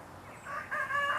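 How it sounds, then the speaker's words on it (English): Roosters crow at a farm in the early morning, with one drawn-out cock-a-doodle-doo rising and holding, fairly faint and a short distance off, with no talking over it. "You might hear the roosters behind me."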